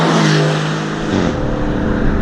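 A 2019 Aston Martin Vantage with a twin-turbo engine accelerates close by, its loud, steady engine note climbing in pitch as it pulls hard.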